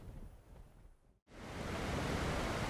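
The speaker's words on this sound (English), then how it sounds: "Right there, this one's sort of kind of in a waterfall." A steady rushing roar of a waterfall in the video game ARK: Valguero, briefly cutting out before returning louder and fuller, broad and continuous.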